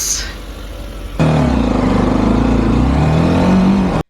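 A motorbike engine starts up and runs steadily as the rider sets off for the office, a loud close hum with a low rumble following a brief quieter stretch of ambient noise.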